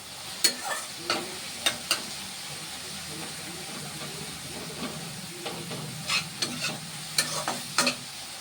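Mushrooms and shrimp sizzle and hiss in a hot pan as the water cooks off, while stirring scrapes and clacks sound at irregular intervals.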